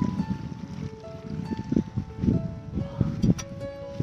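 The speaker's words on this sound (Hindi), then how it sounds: "मैंने चालू कर दिया पानी, है ट्यूबवेल चालू कर दिया" A tubewell pump runs in a farm field while irrigation water flows out, giving a steady, close droning hum with a rushing wash on top and no voices.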